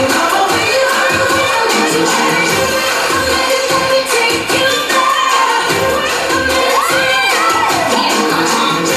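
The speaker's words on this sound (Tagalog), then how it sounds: "Palakpakan naman kasama ang sigawan!" A loud live studio audience on a Filipino noontime variety show cheers and shouts steadily, with applause mixed into the continuous crowd roar.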